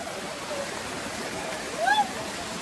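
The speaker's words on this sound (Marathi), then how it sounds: "ते पूर्ण दगड आहेत आणि हा वरून धबधबा खाली येतोय." A waterfall at Bhimashankar tumbles down over rocks, a steady broadband rush heard close and continuous, with a brief whistle-like tone rising near the end.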